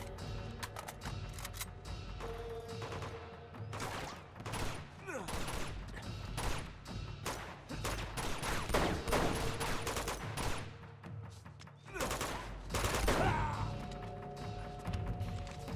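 Dense gunfire in the video game Uncharted 2 during a tank battle, with repeated shots and bursts crackling steadily under shouted talk, loud and close throughout.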